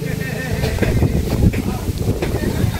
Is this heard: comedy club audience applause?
no